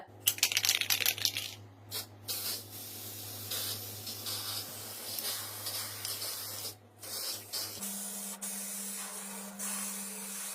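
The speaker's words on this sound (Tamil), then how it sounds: "இந்த பெயிண்ட் அடிக்கும் போது அரை அடியில இருந்து ஒரு அடி தூரத்துல வச்சு அடிக்கணும்" Red spray paint hisses in long continuous bursts onto a rusted refrigerator door, close and loud, with short pauses between passes of the can.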